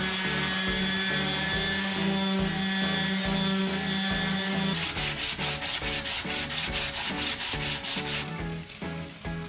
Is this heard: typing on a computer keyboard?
no